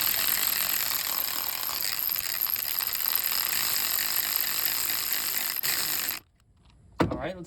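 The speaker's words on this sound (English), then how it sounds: "now we have our tensioning bolt ready to be tightened up" Ratchet tightening a serpentine belt tensioner bolt on a Toyota Corolla with a 2ZR-FE engine, a steady run of close mechanical clicking for about six seconds, then a pause and a brief final click.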